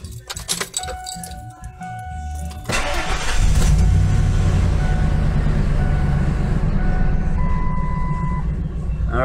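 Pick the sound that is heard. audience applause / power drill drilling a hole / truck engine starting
truck engine starting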